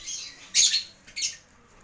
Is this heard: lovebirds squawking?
yes